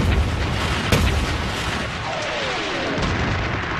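A World War II artillery barrage rumbles in a steady, loud wash of distant booms and explosions, with one sharp blast standing out early, all blended into a continuous battlefield roar.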